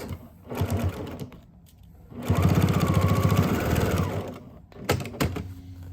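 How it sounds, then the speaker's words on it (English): A sewing machine stitches across layered fabric with a wide, nearly half-inch stitch. Short bursts of clicking needle action come first, then a longer steady run of rapid rattling stitches, then a few final brief taps, all close up. "so I can now stitch across. And I will use a much wider, almost a 1/2 inch stitch here"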